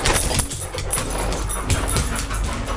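A dog whimpers and whines softly during a nosework scent search, close by, with short breathy whines and snuffling across the brief moment.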